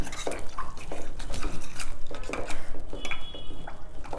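Peeled vegetable mashed in a bowl with a spoon: repeated soft, wet squelching presses and light clinks of utensil on the bowl, close and steady for a few seconds.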